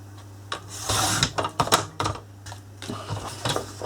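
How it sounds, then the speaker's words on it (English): A paper trimmer slices along the edge of card stock, giving close, dry clicks and short scraping cuts in an uneven rhythm, with small handling taps between them. "just bring my trimmer straight back in again. And I'm just going to trim around the edge"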